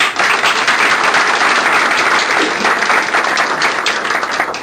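Dense, loud crowd applause at a political rally for a candidate's nomination bid, a steady roar of many hands clapping together with no talk over it.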